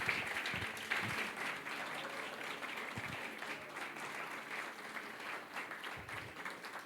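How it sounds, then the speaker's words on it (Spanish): A church congregation breaks into sustained applause, a faint, steady patter of many hands clapping that carries on for several seconds, with occasional low thumps underneath. "Dale un fuerte aplauso al Señor."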